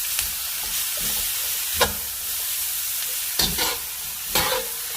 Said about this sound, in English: Now I'm going to add my shrimp, and again, shrimp cooks very quickly, so to prevent overcooking, I'm just going to quickly saute.